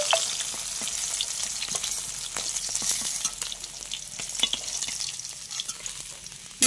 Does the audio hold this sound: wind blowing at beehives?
no